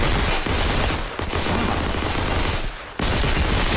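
Heavy, continuous gunfire in the World War II shooter Day of Infamy, a loud, unbroken fusillade of overlapping shots with a few brief lulls and no voices.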